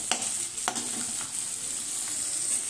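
Tomatoes fry in a pan while being stirred, a close sizzle broken by a few quick scraping strokes of a spoon in the first second.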